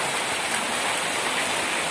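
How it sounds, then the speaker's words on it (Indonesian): Heavy rain falls continuously outdoors as a dense, even hiss, close by and steady throughout, with no voices. "Diguyur hujan."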